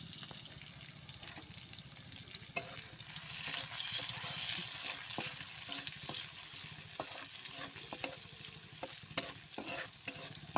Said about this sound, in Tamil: வெங்காயம் சேர்த்துட்டேன். இப்போ நல்லா வதக்கி விட்டுடலாம்.